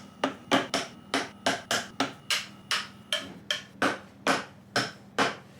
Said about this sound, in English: I suck at the tap of the hammer